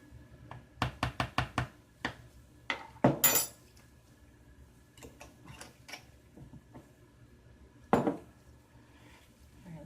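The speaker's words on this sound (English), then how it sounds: "Stir to make sure that's fully incorporated before I add my honey." Spoon or whisk clinking against a container while stirring a cold process honey soap mixture, with a quick run of sharp taps early on, a scraping burst, then sparse knocks and one loud clink near the end.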